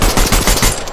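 Loud, rapid pistol fire from the Fortnite video game, several sharp shots in a quick rhythm close up with no talking.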